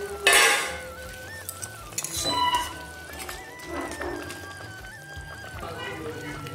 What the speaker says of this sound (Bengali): এখন ভেজে রাখা মাছগুলো আমি দিয়ে দিচ্ছি ঝোলের মধ্যে।